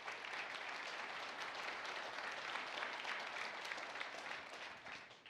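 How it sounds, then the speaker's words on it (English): Dense, steady applause from an audience at a Lenovo Transform corporate event, a full-house clapping that holds evenly for about five seconds before starting to taper at the end. "So once again, big round of applause."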